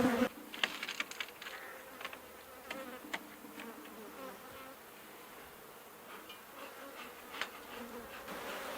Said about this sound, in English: Now we're going to get into the horizontal hives and see how they're doing compared to the vertical hives.